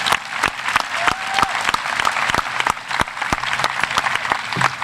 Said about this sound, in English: Could we give them a round of applause for that?